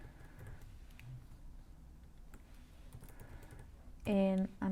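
A short burst of computer keyboard typing near the end, close and clear, after a quiet stretch with faint background noise and brief clicks.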